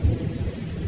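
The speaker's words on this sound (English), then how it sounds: "It's starting to rain." Rain falls steadily as a short low rumble of thunder rolls in at the start, brief and fairly soft.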